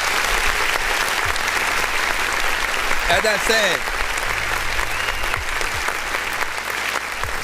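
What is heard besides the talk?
clapping applause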